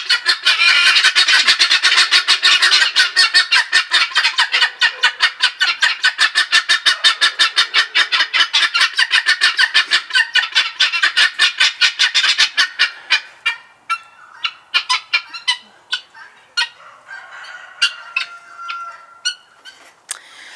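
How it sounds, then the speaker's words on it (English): Guinea fowl on a homestead call near feed time, a dense run of rapid, harsh, repeated cries that later breaks into sparser, spaced calls, loud and close with no talking. "Guinea fowl saying good afternoon."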